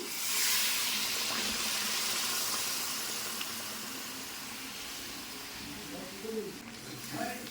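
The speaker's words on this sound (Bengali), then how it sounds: "এবার আমি দিয়ে দেবো এর মধ্যে জল। জলটা আমি একটু গরম করে নিয়েছি।" Warmed water poured into a pan of Bengali-style chicken curry, a close, bright rushing hiss that swells at first and then fades into a softer, settling trickle.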